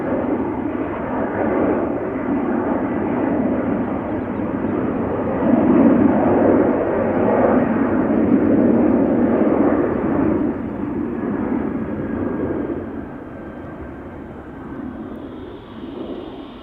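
Airbus A330 jet departing Amsterdam Schiphol Airport, a loud, sustained engine roar with a broad rumbling wash that swells midway, then gradually eases as the aircraft moves off.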